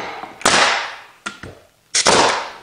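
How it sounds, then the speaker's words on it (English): A pneumatic nail gun driving nails into a subfloor patch, sharp loud bangs followed by a hissing burst of air, with one lighter snap in between and short quiet gaps. "while I shoot my nail in"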